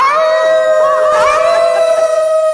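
A puppy gives one long, loud, sustained howl close by, its pitch wavering slightly near the middle.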